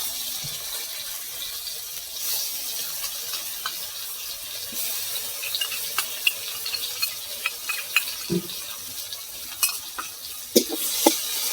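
Ginger, garlic and onion paste frying with tomato in hot oil for an egg curry, a steady sizzle with occasional stirring scrapes and clinks growing busier toward the end.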